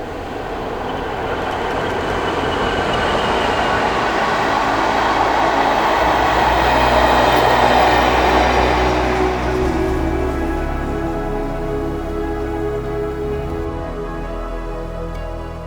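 A train of empty stock rolls past on the Settle–Carlisle line near Ribblehead Viaduct, a loud, continuous rumble of wheels and wagons that builds, peaks and slowly fades as it moves away, with no one speaking.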